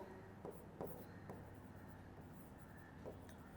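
Pen scratching out a journal entry by hand on paper, a faint steady scribble with a few soft taps, close and quiet with no talking.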